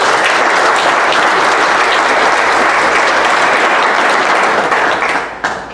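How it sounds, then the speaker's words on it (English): A live show audience gives a long, loud, dense round of applause, many hands clapping steadily together before the sound thins out near the end. "Give each other a round of applause."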